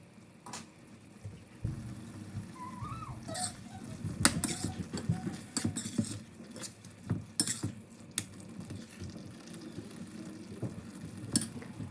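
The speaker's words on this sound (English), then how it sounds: "let it simmer until it has thickened up" Quiet simmering and sizzling of a skillet dish thickening on the stove, with soft bubbling, intermittent stirring and light clinks of a utensil against the pan.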